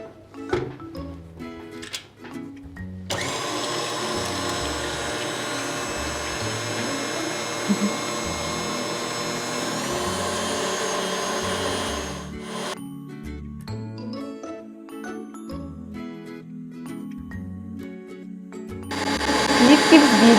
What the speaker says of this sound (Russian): Взбиваем, начиная на медленной скорости.